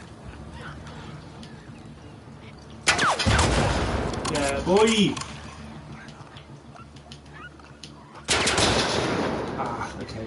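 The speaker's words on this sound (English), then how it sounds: "What's all that banging and gunfire?" Gunfire in The Last of Us Part II, with two loud bursts of rapid shots separated by a quieter stretch, and a voice exclaiming briefly in between.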